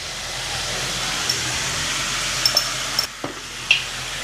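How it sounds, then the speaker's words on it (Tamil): Tamarind broth sizzles and bubbles in a pan with occasional scrapes and clinks of a spoon stirring, close and steady, no talking. "இதை நல்லா கிண்டி விட்டுக்குவோம்"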